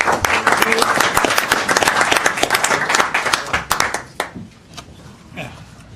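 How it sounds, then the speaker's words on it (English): A council meeting audience bursts into a dense round of applause, loud and steady for about four seconds before thinning to a few scattered claps and fading out. "Let's give everybody a round of applause"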